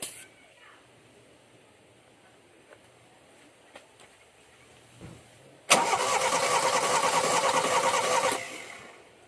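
A Toyota Corolla engine cranks during a compression test, a steady loud whirring drone that starts abruptly after a quiet stretch with a few faint clicks, runs for about three seconds, then cuts off.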